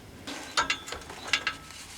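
A socket wrench ratchets on exhaust bolts near the H pipe during an engine teardown: a few short, close metallic clicking bursts in quick succession, with no talk.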